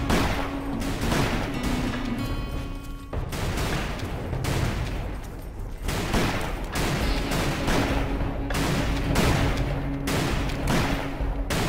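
Sustained gunfire from a Wild West shootout in Call of Juarez: Bound in Blood, loud and continuous, with dense overlapping volleys and sharp shots running the whole stretch with no talking.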